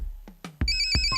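A phone ringtone starts up after a few low thumps, a steady electronic melody of bright tones ringing loudly and close.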